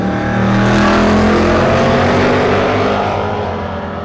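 A 1966 Ford Fairlane drag race car launches at a drag strip, its engine a loud, sustained roar that holds strong throughout and eases slightly at the end.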